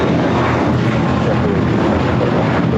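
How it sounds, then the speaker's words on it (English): A JetBlue Airbus A321 airliner takes off from LAX bound for Newark, its engines giving a loud, broad, steady roar that fills the whole stretch without a break. "This is It's Meant to Be taking off to Newark. JetBlue 1874. It's an A321."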